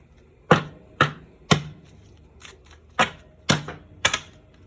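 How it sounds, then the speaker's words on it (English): Sharp, evenly spaced slaps and taps of tarot cards being shuffled and set down, about eight crisp hits close by. "let's leave these here as I shuffle new cards"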